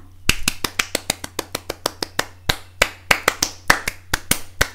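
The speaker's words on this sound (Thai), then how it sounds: "ปรบมือค่ะ" Close, crisp handclaps, a steady run of single sharp claps in a regular rhythm with a few brief pauses, loud and alone over a faint low hum.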